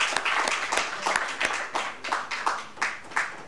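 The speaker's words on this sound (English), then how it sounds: "give a big applause for all the things that they have done" Audience applause for education researchers, a steady wash of clapping with rhythmic swells of stronger claps rising and falling across the span.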